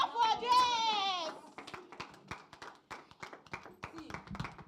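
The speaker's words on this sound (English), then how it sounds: "Clap for them!" Scattered clapping from a small audience at a sickle cell awareness event, sharp irregular claps following a brief shout, with children's voices and chatter mixed in.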